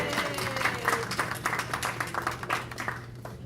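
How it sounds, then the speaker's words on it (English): An audience at a senior center applauds steadily throughout, a dense patter of many hands clapping at moderate loudness, fading slightly toward the end. "So let's give her a round of applause."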